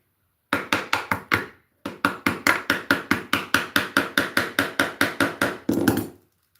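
A hammer knocks during carpet removal in rapid, evenly spaced strikes. A short run of blows is followed by a pause, then a longer steady series and a final flurry, all close and sharp, with no talking.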